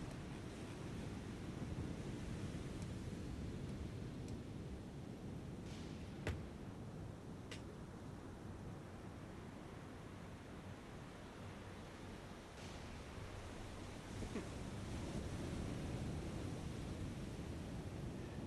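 Warship ploughing through rough ocean waves in the naval game War on the Sea, a steady broadband wash of surf and wind with occasional faint splashes, continuous and fairly even throughout.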